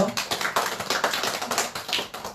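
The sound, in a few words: congregation clapping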